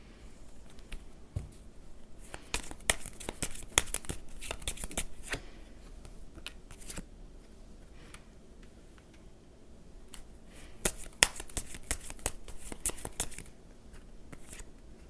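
Tarot cards shuffled and handled to draw an advice card, a steady run of soft close flicks, taps and riffles with brief pauses, quiet and without any voice.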